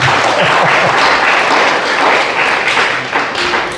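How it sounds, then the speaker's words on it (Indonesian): Loud, dense applause from an audience at a Buddhist college event, continuous clapping that fills the hall for a few seconds and eases slightly at the end. "Kita kasih aplaus lagi Riwirian."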